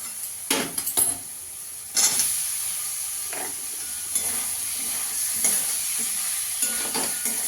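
Potatoes stirred into a frying spice masala for an egg chicken mughlai, a steady close sizzle and hiss with a few sharp spoon scrapes and clatters against the pan.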